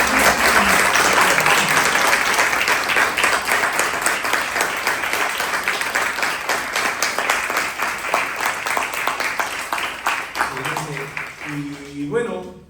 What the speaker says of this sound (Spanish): un fuerte aplauso por favor para los actores